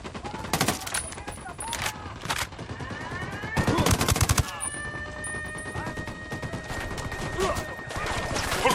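Gunfire in the video game Ghost Recon Wildlands: repeated loud bursts of automatic weapons with crisp single shots in between, set against a continuous noisy combat backdrop.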